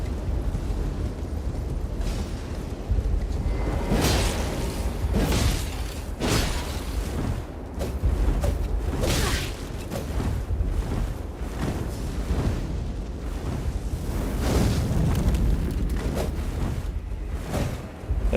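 Fire magic explosions hurled by an enemy in Elden Ring, a steady run of loud booming bursts and whooshes repeating every second or two across the whole stretch, with no talking over them.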